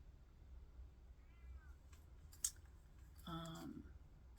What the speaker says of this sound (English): my poor kitty is down at the bottom of the stairs crying for me